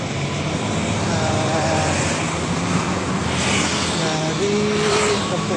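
A bus passes along a busy Jakarta street near Rempoa, its steady engine roar and road noise loud and continuous throughout, blending with surrounding traffic.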